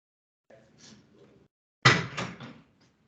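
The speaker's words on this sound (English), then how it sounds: "I want to close my door." A door is closed nearby: faint shuffling and handling, then one firm thud with a short rattle as it shuts.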